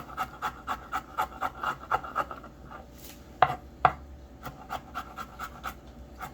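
A knife chops food on a cutting board in a quick, even series of rhythmic taps, with a couple of sharper, louder knocks partway through and a soft steady backdrop.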